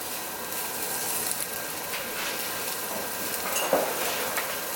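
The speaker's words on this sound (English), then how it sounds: "Dump your veggies in the same pan." Vegetables sizzle in the same pan as a pan-seared ribeye steak, a steady close frying hiss with a few faint clinks of utensils, and no talking.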